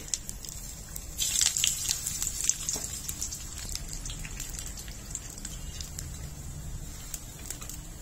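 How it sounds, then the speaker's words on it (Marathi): Cashews and almonds fry in hot ghee with a soft, steady sizzle and crackle, close by, brightest at first and then settling into an even hiss. "आवडीनुसार ड्रायफ्रुट्स घेतलेत ते तुपावर परतून घ्यायचे"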